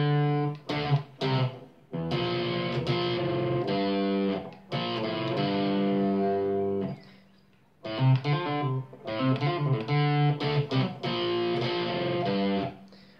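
Electric guitar plays an intro riff with a distorted tone, in loud bursts of repeated rhythmic phrases separated by short pauses, with no talking.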